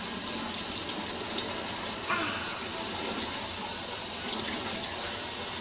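Water runs steadily from a sink tap during rinsing, a continuous close hiss and splash with small shifts in flow as hands or a brush move through the stream.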